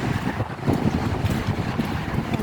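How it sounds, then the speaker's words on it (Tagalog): Strong wind blows beside a road, buffeting the microphone with a continuous loud, rumbling roar that surges and eases slightly throughout. "Ay, humangin."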